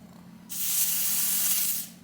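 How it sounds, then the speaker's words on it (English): Lace spray misted onto a wig during a frontal lace wig install, a single steady hiss lasting about a second and a half, close and fairly loud. "I'm just going to use a little lace spray on this wig today to install this wig"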